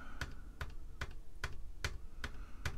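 Keys pressed on a Unitrex 800K electronic calculator during a repair, seven sharp evenly spaced clicks about half a second apart, close and distinct over a quiet room.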